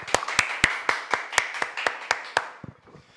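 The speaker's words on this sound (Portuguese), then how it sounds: "Bate palmas pros MC aqui," A small audience at an outdoor rap battle claps in a steady rhythm, about a dozen sharp hand claps at a moderate tempo that fade into a few softer scattered claps.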